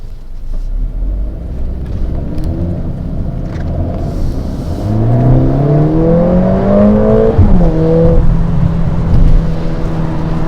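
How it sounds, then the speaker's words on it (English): A 2021 Mercedes-AMG GLA 45 S 4MATIC+ in comfort mode under full throttle, the engine rumbling low, then rising in a strong climbing rev as the car accelerates before easing into a steady drone, heard from inside with no talk. "Even in this comfort mode, it of course has a lot of power when you fully throttle it."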